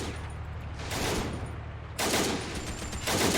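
Bren gun machine gun fire in a WWII battle game set during the 1940 invasion of Greece, with ANZAC forces at a bridge crossing: dense bursts of gunfire and distant shots roll on continuously, getting louder in the second half.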